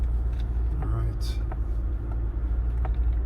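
A car cruises along a road as a low, steady interior rumble fills the cabin, with faint clicks and small knocks over the drone and no clear talking.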